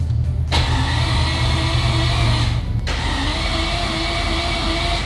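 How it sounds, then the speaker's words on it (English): A four-rotor engine in a Mazda RX7 cranks to prime the oil, giving a loud, steady whirring drone that runs almost continuously with two brief breaks, heard close and alone. "what I'm doing now is called priming the oil, making the oil pump suck up the oil that we put just in"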